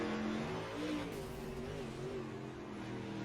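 A dirt race car engine in iRacing drones at sustained high revs with slight pitch wavers, a steady, fairly quiet tone throughout.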